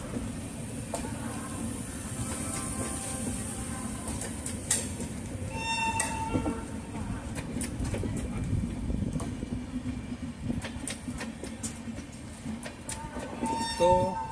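A Brahmaputra Mail passenger train runs on an Indian railway line with steady rumbling and rattling wheel noise throughout, while scattered brief clanks and squeaks come and go over it.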